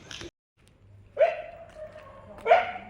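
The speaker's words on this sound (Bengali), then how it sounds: "কুকুরগুলো ডেকে যাচ্ছে" Dogs bark outdoors during an evening walk, two loud, close barks roughly a second apart with quieter yelps between, over faint street background.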